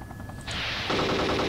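Loud machine gun fire in the military shooter Arma 2: Operation Arrowhead, a continuous rapid burst of rattling shots that starts abruptly and keeps going, close and dense, with no talk over it.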